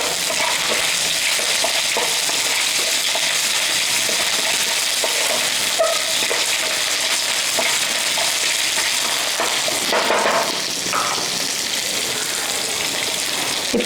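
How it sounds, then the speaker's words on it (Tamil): Finely chopped curry leaves fry in hot oil in a pan, giving a steady close sizzle with occasional stirring scrapes. "இது கூடவே ஒரு கைப்பிடி அளவு கருவேப்பிலையை இந்த மாதிரி பொடியாக நறுக்கி வச்சுருக்கேன், அதையும் சேர்த்து நல்லா ஃப்ரை பண்ணிடலாம்."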